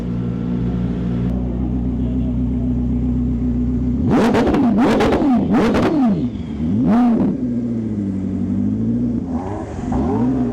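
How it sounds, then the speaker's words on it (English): A Lamborghini Revuelto supercar launches off the line, its engine idling loudly before exploding into a series of sharp, rising revs and gear-change wails, then settling back to a rumble, with background crowd noise. "Revuelto sounded insane launching off the line."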